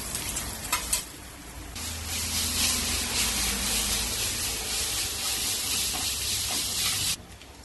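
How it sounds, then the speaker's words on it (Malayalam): Grated mango sizzles and hisses in a hot pan with turmeric and asafoetida, a loud, steady frying crackle broken by a few stirring scrapes, then dropping off near the end. "ഇനി ഇതിലേക്ക് മാങ്ങ ഗ്രേറ്റ് ചെയ്തിട്ട് വഴറ്റാം."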